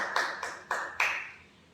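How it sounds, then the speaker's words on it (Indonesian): A handful of sharp, separate hand claps ring out in a classroom to reward a student, four crisp slaps spaced about a quarter second apart and fading quickly, with no talking. "Berikan tepuk tangan untuk Fazat karena sudah berani menyampaikan."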